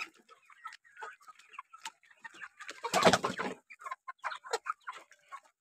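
Hundreds of chickens on a poultry farm cluck and chirp in scattered, moderately close calls. A louder burst of flapping and squawking comes in the middle.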